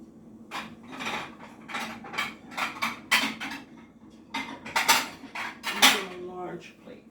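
Ceramic dishes and cutlery clatter close by as a plate is fetched from a stack, a quick run of bright knocks and clinks in two bursts, with no talk.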